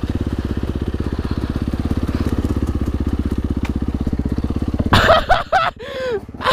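A 250 XC dirt bike engine running close and loud with a fast, steady pulsing beat, then revving and crackling in uneven bursts near the end.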